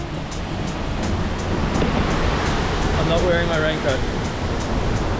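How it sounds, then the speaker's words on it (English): Waterfall spray at Hunua, New Zealand gives a steady, loud broadband rush of falling water and mist, close by. People talk over it throughout. "It's not raining, but the waterfall is raining."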